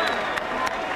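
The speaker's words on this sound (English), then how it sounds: "a round of applause for two warriors in the heavyweight division" A boxing arena crowd at Caesar's Palace applauds and cheers with a dense, continuous roar after a heavyweight fight.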